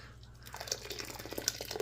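Hot water drips from glass canning jars lifted out of a pot with a jar lifter, faint, scattered drops and small clinks close by in a quiet kitchen.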